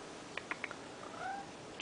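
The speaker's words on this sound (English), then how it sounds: "The new cat that I got a while ago." A new pet cat lets out a few short, faint chirps followed by a thin rising meow, all quiet against a low background hiss.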